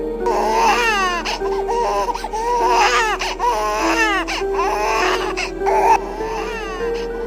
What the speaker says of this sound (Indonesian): karena takut tetangga mendengar tangisan bayi, ayah David kalap menghabisi bayi yang baru